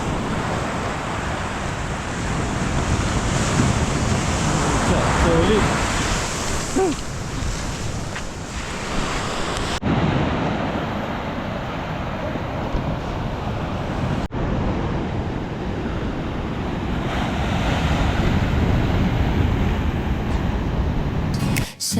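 Strong ocean surf pounds an island beach early in the morning, a loud continuous roar of breaking waves mixed with wind buffeting the microphone, with a brief spoken word.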